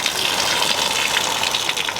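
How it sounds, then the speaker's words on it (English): Rain runs off a camping awning at a remote creekside campsite on Fraser Island, giving a steady, loud, close hiss of pouring and splashing water that continues unbroken throughout. "Tying a water runoff here so that the water can run off the awning successfully."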